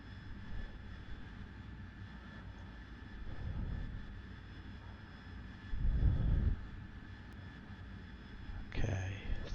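A steady jet engine drones from an AV-8B Harrier in flight within the DCS combat flight simulator, swelling louder in a few brief surges, while a pilot talks over it.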